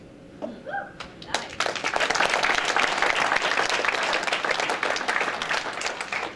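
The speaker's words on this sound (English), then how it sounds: "Long hang time, then a couple guilt claps, and the rest of you chime in." Audience applause at a live comedy show in Edmonton: a few scattered claps at first, then the crowd joins in with loud, sustained clapping that fills the room and holds steady to the end.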